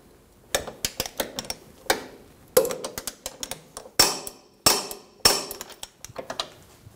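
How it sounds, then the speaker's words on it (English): A wrench tightens the rear control arm bolt on a 2010-2014 Subaru Outback, a close series of sharp metallic clicks and ratcheting snaps in irregular bursts, with brief pauses between strokes. "Torque the rear control arm bolt to 103 foot-pounds. Make sure you hold the nut while doing this."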